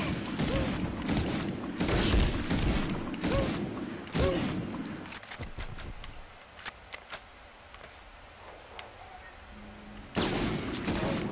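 Gunfire and mechanical clatter in a PlayStation video game, with dense bursts of shots and crunching effects that drop away midway, leaving scattered ticks and creaks before the loud action returns.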